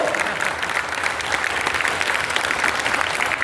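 Seminar audience in a Kolkata hall claps at a direct-selling marketing event, producing a dense, fairly loud and unbroken patter of applause lasting a few seconds.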